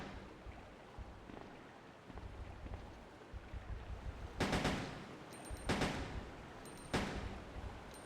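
Three loud, sharp pistol shots fired at a spider in the video game Resident Evil 2, spaced about a second apart over a low, rumbling in-game background.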